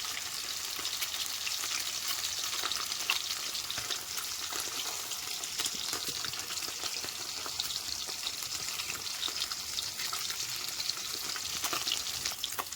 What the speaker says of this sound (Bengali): দেখছো পিঠটাও আমার ভাজা হয়ে গেছে। এবার আমি এই পিঠটাকে ভালো করে উল্টে দেব।